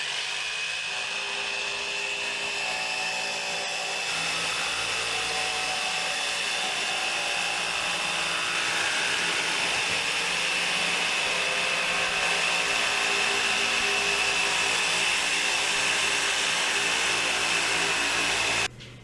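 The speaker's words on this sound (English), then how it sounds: "My husband and I cut the barrels into 7-inch tall rings, basically making big plastic donuts." A power tool cuts large plastic barrels into seven-inch rings, giving a steady, loud, high-pitched whine that runs almost unbroken for the whole stretch and stops abruptly at the end.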